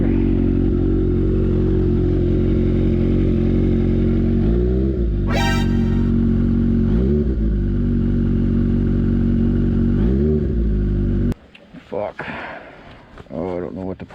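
Kawasaki Ninja H2 motorcycle with a newly installed blow-off valve and a check engine fault, idling loudly in a garage with several throttle blips, then shutting off abruptly into quieter clattering handling sounds.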